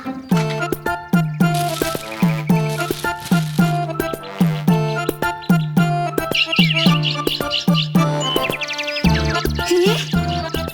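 Bright sparrow chirps flutter over a steady, rhythmic musical backing in a cartoon song, with short tweeting bursts rising above the beat now and then.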